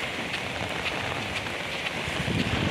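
Steady rain from Typhoon Aghon hissing on surfaces, with faint wind noise and no talking.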